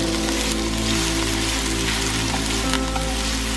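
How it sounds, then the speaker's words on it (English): Brinjal (eggplant) slices fry in a pan of oil, giving a loud, steady, dense sizzle like rain on a surface, unbroken from start to finish with no voices. "You need to fry these brinjals for about 2 to 3 minutes until it's golden brown."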